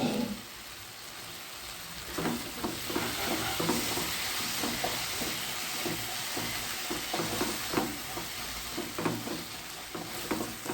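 Spinach for palak paneer cooks under a lid in a pan, making a continuous soft sizzle dotted with small pops and bubbling ticks, close and moderately quiet.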